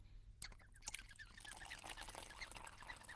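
Water pours through a wine aerator with rapid, high-pitched chirping and gurgling squeaks, quiet and close, continuing in a quick irregular flutter.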